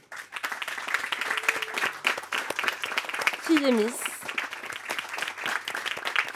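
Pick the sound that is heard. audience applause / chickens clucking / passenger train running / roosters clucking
audience applause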